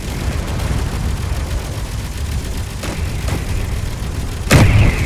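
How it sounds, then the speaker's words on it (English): Continuous rumbling assault cannon gunfire in Space Engineers, with scattered sharp blasts, ending in a loud close explosion-like burst near the end; no one speaks. "What's my next shot with assault cannons?"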